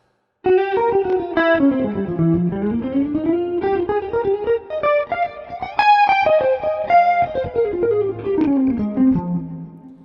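A Squier Classic Vibe electric guitar played through the neck pickup with chorus and delay effects, producing a loud, continuous, fluid single-note melodic line with a smooth, slightly distorted sustain.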